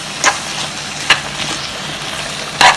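Ground coconut paste gets mixed into cooked banana in a pan, with a few sharp scraping and clinking strokes of a spoon over a soft steady background; no talking.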